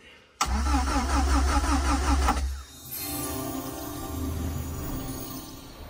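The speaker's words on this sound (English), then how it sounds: "the starter motor, it's really slow to turn over" An MG Midget 1500 starter motor cranks the engine slowly and rhythmically for about two seconds; the engine then catches and settles into a rough, close idle.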